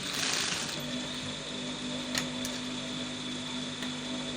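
A sewing machine top stitching a pocket on jogger sweatpants, giving a steady, close mechanical ratcheting hum with a faint tick or two, heard alone without talk.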